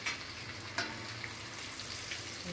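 Garlic and tamarind fry in hot oil for a homemade Tamil-style mixture snack, a faint, steady sizzle with a couple of small pops, heard alone.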